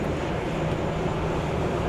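A Beechcraft King Air 250 twin-turboprop at Dallas Love Field gives a steady, broad engine roar with low rumble, continuous and fairly loud, alone with no talk.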